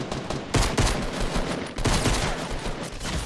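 Dense gunfire from a Fortnite battle royale match, with rapid overlapping shots and bursts running loud through the whole stretch, nearly continuous with a few sharper volleys standing out.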